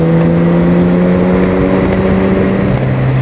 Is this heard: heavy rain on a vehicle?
no